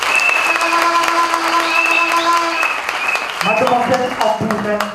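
Wedding guests applaud at an official marriage ceremony, a burst of clapping from a gathered crowd mixed with talk and a sustained musical tone, then louder uneven clapping near the end.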